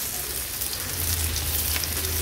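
Curry leaves and dried red chillies crackle in hot oil for a Maharashtrian tempering, a steady close hiss with scattered faint pops, no voices.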